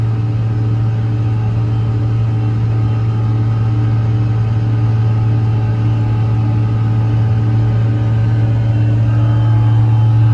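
CASE IH 9350 Steiger tractor pulling a CASE IH 4300 cultivator in a field, a loud steady diesel engine drone with a strong low hum and constant rumble, no talking.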